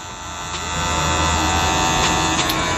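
Electric hair clippers buzz steadily while cutting a men's fade, a continuous close-up electric hum that swells slightly as the blade works, with a few brief brushing contacts and no talking.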